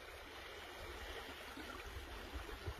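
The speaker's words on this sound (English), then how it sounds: "I bet that is a cold creek." A cold creek flows steadily in Palo Duro Canyon State Park, a soft continuous rushing wash of water with a few louder gurgles near the end, heard alone.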